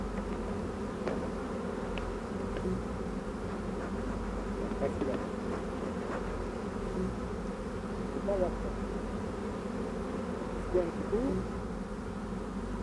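Honey bees forage over nearby countryside, a steady, close insect hum carried by many wings with a few louder passes drifting near, continuous and alone without voices.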